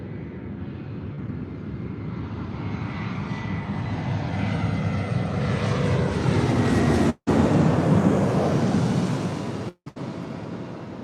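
A fixed-wing airliner lands at LAX on runway 24 left, its engine roar building steadily and loud, broken by two sudden brief dropouts near the end.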